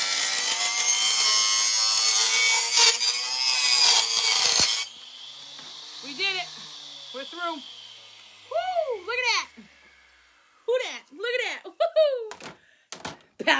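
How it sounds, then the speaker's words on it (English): A power saw cuts through a large wooden shamrock, giving a loud, dense buzzing rasp for several seconds that stops abruptly, followed by talking and a few wooden knocks and thuds. "Power tools. You gotta love them."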